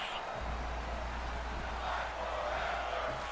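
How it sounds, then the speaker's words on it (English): A wrestling crowd at a live event chants steadily throughout, a dense, sustained wash of many voices with a low constant hum beneath. "And now the crowd chanting that familiar phrase, fight forever."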